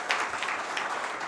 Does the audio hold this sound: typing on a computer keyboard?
no